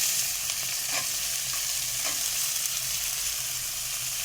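Chopped green chillies and peanuts fry in oil in a kadai, giving a steady, close hiss with a few soft stirring scrapes and no talk.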